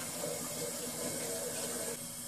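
Water rushes steadily as seltzer is carbonated and filled from a DIY kit with the gas at about 80 PSI, a continuous loud hiss and gush that eases slightly near the end.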